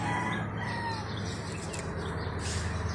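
Roosters on a game farm in Canlaon, Negros Oriental, crowing and clucking in a steady, busy farmyard chorus, with several birds calling at once at moderate distance and no talk.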